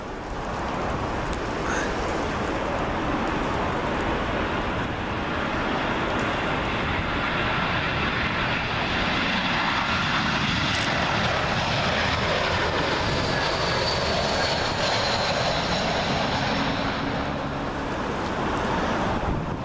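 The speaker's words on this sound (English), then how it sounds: "Got another Airbus A319 for British Airways coming in here. This one from Frankfurt" Close, sustained jet roar of a British Airways Airbus A319 from Frankfurt on final approach into Heathrow 27L, loud and steady for the whole stretch with some wind buffeting, no voices.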